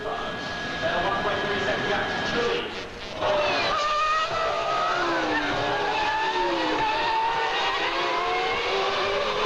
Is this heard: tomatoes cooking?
no